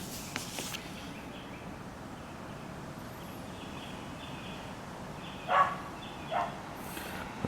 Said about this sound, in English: Nothing like listening to a barking dog while you're reading the instructions.